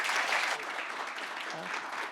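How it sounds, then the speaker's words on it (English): Applause from a conference audience for a panel, a dense steady clapping across the whole moment, slightly louder at the start. "Round of applause for our panelists,"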